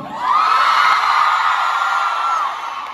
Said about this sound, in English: You got a crowd.